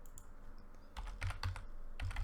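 Bursts of computer keyboard typing, several quick keystroke clusters with short pauses, close and fairly quiet in an office-like setting while entering a group name on a domain PC.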